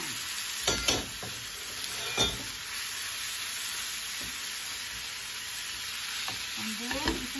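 Browned sautéed pork tipped into tofu already frying in a pan, giving a steady soft sizzle with a few sharp clattering thumps of meat and utensil, quiet and without talk.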